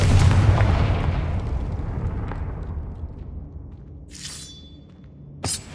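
A Confringo blasting spell explodes with a loud deep boom in Hogwarts Legacy, its rumble decaying over several seconds, followed by a faint shimmering chime and a sharp closing crack.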